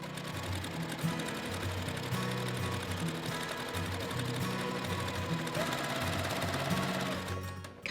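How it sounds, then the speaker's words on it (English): Sewing machine running steadily while stitching a quilt seam edge to edge on an hourglass quilt block, a continuous close mechanical whir with a busy rhythmic chatter that stops abruptly at the end. "I'm just going to start at the very edge and sew all the way to the other edge"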